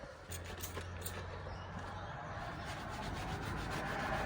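Light hand sanding of a cracked, rough surface before a new wrap goes on, a steady soft scratchy rubbing that runs close and continuous throughout, with a faint low hum beneath and no talking.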